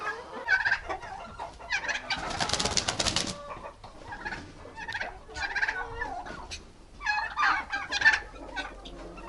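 Turkeys in a Ukrainian village gobble repeatedly in bursts nearby during mating season, with a brief flurry of wing flapping early on and quieter clucking between calls.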